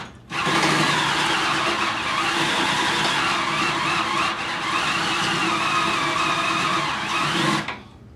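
A cordless power tool whirs loudly and steadily for several seconds while enlarging a drilled hole through a spot weld on a 1996 Toyota RAV4 frame crossmember, then winds down abruptly.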